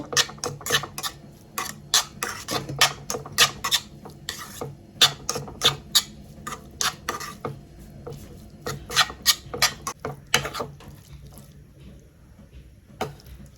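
Paneer stir-fried in a pan, heard as quick, repeated scraping strokes of a utensil against the pan in an uneven rhythm, close and crisp, with no one speaking.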